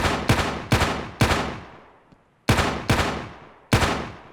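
A World War II pistol fires in the video game Ravenfield: seven loud, sharp single shots with echoing tails, first four in quick succession, then a pause before three more, with no talking.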